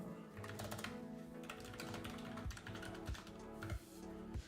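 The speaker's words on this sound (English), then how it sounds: "the keyboard too loud?" Rapid typing on a computer keyboard during work on a Roblox game project, with dense, close key clicks and a few heavier thumps such as the space bar, heard alone.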